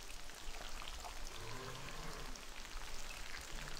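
Eggs in World of Warcraft give off a soft continuous pattering crackle like rain on a surface, steady and fairly faint, with no voices.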